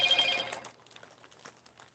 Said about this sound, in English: with that notification on that phone. You don't miss that.